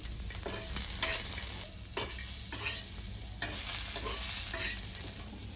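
Raw mango pieces fry and sizzle in a pan with loud continuous crackling, punctuated by scraping stirs of a spatula against the pan at close range.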